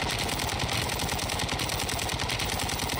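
A gun in Warzone 2 fires in sustained automatic bursts, with dense rapid reports that run loud and steady throughout, without any talking.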